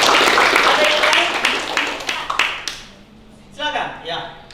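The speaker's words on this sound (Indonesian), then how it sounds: "Tepuk tangan." Hands clapping in a classroom, a dense burst of applause from several people for about three seconds that thins into a few scattered claps, followed by faint voices.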